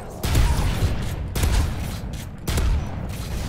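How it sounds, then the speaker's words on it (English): Hip-fired weapon bursts in the shooter game Modern Warfare 3, loud and close, coming as three strong bursts of rapid shots with brief gaps between them. "I'm literally just hip firing everything."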